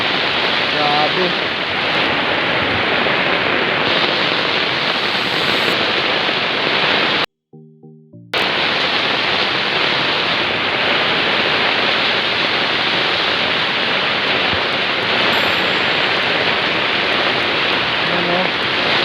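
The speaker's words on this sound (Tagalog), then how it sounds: "Malakas na yung ulan" Heavy typhoon rain pours down steadily as a loud, dense, continuous roar that cuts out briefly midway, with a faint voice in the background.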